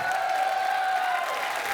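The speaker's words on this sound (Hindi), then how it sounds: "जोरदार तालियों से स्वागत कीजिए" Steady, continuous audience applause fills a comedy show studio during a football-themed skit, a dense, even wash of clapping with no pauses.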